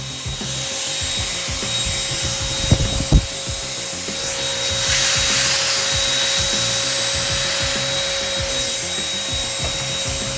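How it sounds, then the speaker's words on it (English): A vacuum cleaner fitted with a 3D printed adapter for Wahl clippers runs steadily and loudly throughout, with a constant whine and rough rubbing, scraping noises as it sucks up hair, plus two sharp knocks early on. "You could really feel the thing sucking my hair up."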